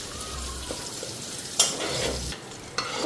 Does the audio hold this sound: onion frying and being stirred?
yes